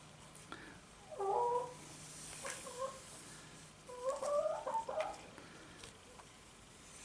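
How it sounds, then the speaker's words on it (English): Chickens clucking nearby in two short bursts of calls with quiet pauses between them, heard alone over a low background hiss. "here comes the chickens"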